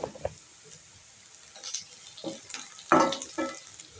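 Shallots and a small piece of ginger fry in a pan for Tamil Nadu style kara kuzhambu, a soft intermittent sizzle broken by scraping stirs, with one louder crackling burst near the end.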